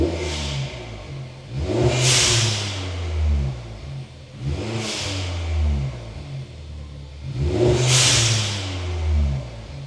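A 1.4 TSI Audi A3 e-tron with its exhaust back box deleted revs three times in a row, each rise in engine pitch swelling to a raspy peak and then dropping back to a steady idle.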